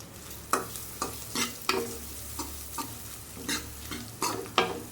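Turmeric being stirred into a pan of cooking amaranth greens: a series of sharp scraping stir strokes at an uneven rhythm, close and fairly quiet, over a low steady hum and faint sizzle.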